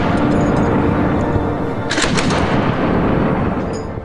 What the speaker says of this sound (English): Russians realize they're being flanked and respond with fire.